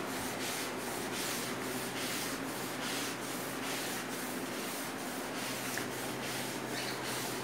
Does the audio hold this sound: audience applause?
no